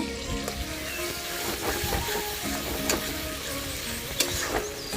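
Onion, garlic, ginger and ground dry chilli paste sizzle steadily in hot oil for a tilapia teljhal curry, with scraping stirs and occasional sharp clicks of a spoon against the pan, close and continuous.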